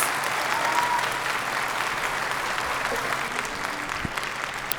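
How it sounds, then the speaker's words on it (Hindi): Parents at a preschool annual cultural function applaud steadily in a large hall, a dense, even wash of clapping that carries on without pause. "तालियां क्यों रुक गई पेरेंट्स?"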